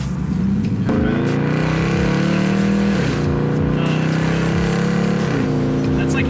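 A 2018 Dodge Challenger accelerates at half throttle, its engine droning loud and steady from inside the car, the pitch climbing and dropping back with each gear change.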